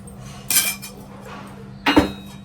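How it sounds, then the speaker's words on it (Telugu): Spoon scraping and knocking against a pot while fresh yogurt is added to mutton for dum biryani: two short metallic clinks about one and a half seconds apart, close and clear with no talk. "ఫ్రెష్ పెరుగు. ఈ స్పూన్తో ఒక 4 స్పూన్లు వేస్తున్నాను."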